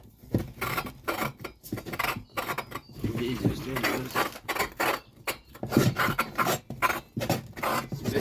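Chainsaw piston lapped inside its cylinder with grinding paste, a gritty rasping rub in short back-and-forth and circular strokes, close and fairly loud, with someone speaking briefly in between.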